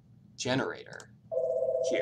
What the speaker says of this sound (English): Sorry, that was my phone going off in the office.